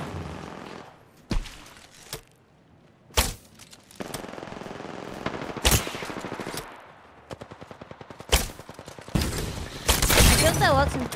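Gunfire in the video game Apex Legends, with sharp single shots and rapid automatic bursts, some loud and close and others fainter, while a player talks between them.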